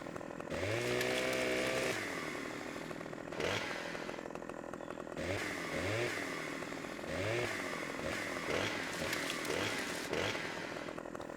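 A chainsaw trims a tree in Farming Simulator 17, its engine revving up and down in repeated whining bursts with cutting and scraping, steady and fairly close throughout.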